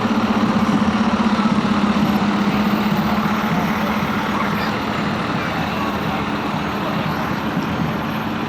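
A Belgium Cold Springs Fire District fire truck rolls past in a Memorial Day parade, its engine a steady low rumble with a droning hum and broad road noise, fairly loud and constant throughout.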